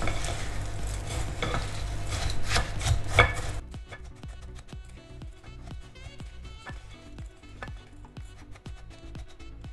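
Crushed speculoos biscuits are stirred with melted butter in a bowl for a cheesecake base, giving a loud gritty scraping at first, then a run of quick, rhythmic scrapes and taps.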